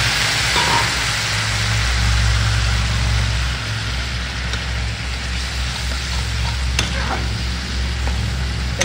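Ginger-garlic masala for a fish kalia sizzles and hisses steadily in a hot pan after water goes in, a dense, even frying noise with faint clinks and no talk.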